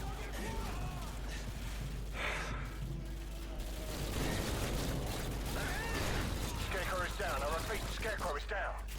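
Gunfire and grenade explosions from Call of Duty: Modern Warfare 2 under continuous excited shouting, dense and loud throughout.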